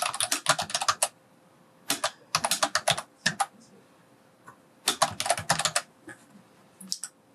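Bursts of brisk typing on a computer keyboard, several quick runs of close, crisp keystrokes separated by short silent pauses.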